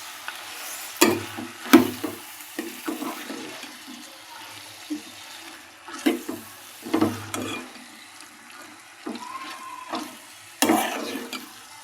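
Chicken pieces for curry being stirred in a pan, with irregular scraping and sloshing strokes that come in bursts of varying loudness between quieter gaps, close by.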